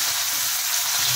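Potatoes and eggplant frying in hot oil with whole cumin give a brief, steady sizzle up close, heard alone.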